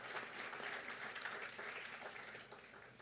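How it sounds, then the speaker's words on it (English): Delegates at the IANPHI public health annual meeting opening session clap for themselves, a soft, steady round of applause from a seated audience that tapers off toward the end. "You can clap for yourselves."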